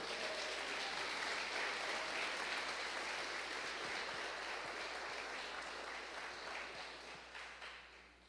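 A church congregation claps along together during a worship service, a steady wash of many hands that stays fairly faint and distant throughout, then tapers off slightly near the end.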